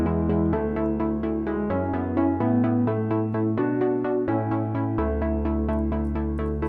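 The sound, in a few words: melody on Native Instruments Giant piano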